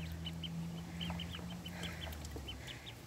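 Ten Rouen ducklings on their first day playing on grass, peeping in soft high chirps scattered through the clip over a low outdoor hum, fairly faint and at a short distance.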